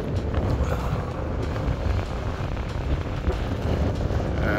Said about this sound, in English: I'm getting the wind meter out to see how fast the wind is actually blowing.